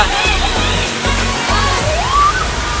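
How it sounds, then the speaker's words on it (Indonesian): The Kijamudi waterfall at Curug Petir on the slopes of Mount Sawal, a loud, continuous rush of falling water close by, with a voice briefly audible over the roar. "menikmati indahnya alam pegunungan kaki Gunung Sawal dan air terjun Kijamudi ini"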